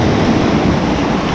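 Sea waves wash against a rocky shore of water-worn stone slabs on the Turkish coast, a loud, steady rushing surf mixed with wind buffeting the microphone, with no voices.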